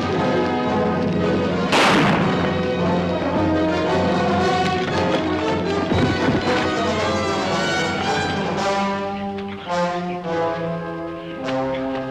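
Pistol gunfire in a TV war drama scene, a sharp blast standing out over a loud, dense bed of orchestral score that carries through the whole stretch.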